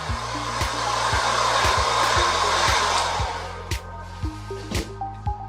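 A hair dryer blows steadily on a repaired canvas picture, loud and continuous for several seconds before easing off, with a low mechanical hum and a few light knocks and clicks as the dryer is moved across the front.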